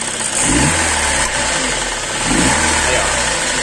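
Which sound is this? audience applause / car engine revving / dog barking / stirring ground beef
car engine revving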